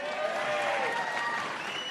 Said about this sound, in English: You applaud if you like it.